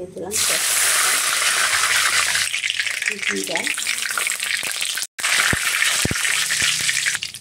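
A loud, steady sizzle of cumin frying in hot oil in a wok fills the clip, briefly cutting out near the end before resuming.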